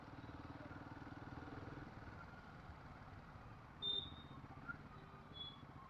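Royal Enfield Himalayan 450 single-cylinder motorcycle ridden in second gear at low city speed, a steady low engine thrum with faint clatter and a brief louder burst midway.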